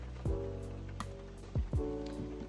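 Rain patters on the body of a small Fiat Doblò motorhome in a soft, constant wash, heard from inside. Low hollow thumps and a steady low hum sit beneath it.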